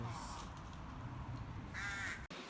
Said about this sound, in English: no birds ever sing except old crows